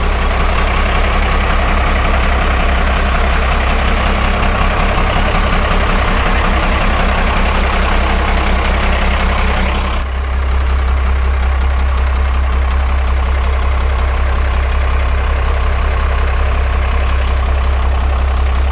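A 1946 Ford truck engine idles outdoors, its loud, steady, low rumble running throughout with a slight change in tone partway through.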